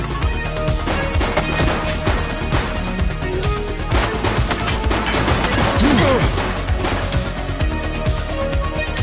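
Suspect opening fire in the police video game The Precinct: dense, loud bursts of gunshots and crashing impacts over a busy, noisy game mix, with rapid overlapping cracks throughout.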